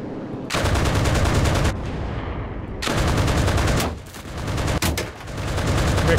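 Aircraft machine guns fire in long, rapid bursts during air support in the game Enlisted. The rattling is loud and close, broken by short gaps between bursts.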